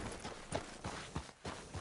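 Horse hooves clip-clopping in Red Dead Redemption 2, a steady walking rhythm of soft, faint hoof falls with no talk.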